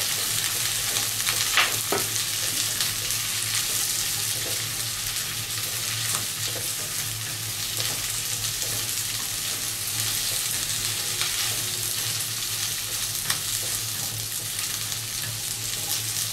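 Capsicum sizzles steadily in hot oil in a kadai for a Bengali-style kadai chicken, with occasional scraping stirs of a spatula cutting through the continuous loud frying hiss.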